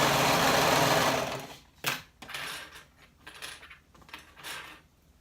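Sewing machine running a fast continuous stitch for about a second, sewing a half-inch seam to close the short ends of a waistband into a loop. A few soft clicks and fabric handling sounds follow once the motor stops.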